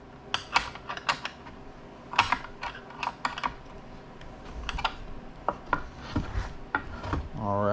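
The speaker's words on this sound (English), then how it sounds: "And tighten the bolt down. Give it a couple good spins." Ratcheting and spinning of a bolt being tightened down on a homemade carnival game build, a series of close, sharp clicking and rattling bursts in irregular clusters with a scraping spin near the end.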